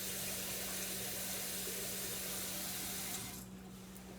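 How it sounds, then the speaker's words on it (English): Tap water runs steadily into a kitchen sink while rice is washed, a continuous close hiss that cuts off near the end, leaving a faint hum. "Okay, now I have my rice all washed up."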